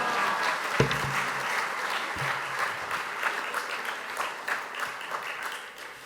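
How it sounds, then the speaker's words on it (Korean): Church congregation at a men's mission devotional service applauds to greet the pastor: steady, even clapping from a large room throughout, with a couple of low thumps early on. "목사님을 박수로 맞이하겠습니다"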